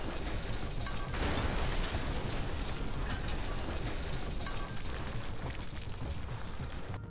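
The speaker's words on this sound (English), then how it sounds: "Here's how that powerful explosion was captured on camera." An anti-tank mine dropped by a drone explodes in a continuous, loud, broadband blast and roar that stays dense and rumbling throughout, with no voices.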